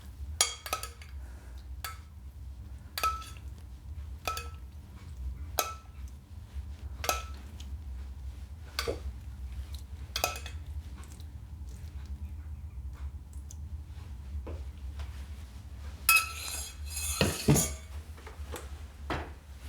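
Melted butter being spooned over a whole turkey, heard as a steady series of light metallic clinks and taps of a spoon against a pan, repeating every second or so, with a louder clattering burst near the end.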